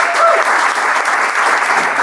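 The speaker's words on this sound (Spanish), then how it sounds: "Con un fuerte aplauso a Quique Matías" A television studio audience gives a loud, steady round of applause to welcome comedian Quique Matías onto a comedy show, a dense, sustained wash of clapping that continues without a break.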